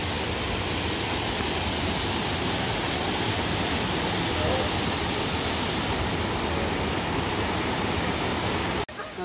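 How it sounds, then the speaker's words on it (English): Waterfall at Watkins Glen State Park, a steady, dense broadband roar of falling water close by that holds constant throughout and cuts off abruptly at the very end. "Look at that beautiful waterfall."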